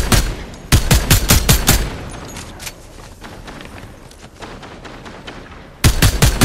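Rapid bursts of gunfire from the video game Fortnite, loud and close, firing in quick strings at the start, dropping to a quieter lull in the middle, then another burst at the end.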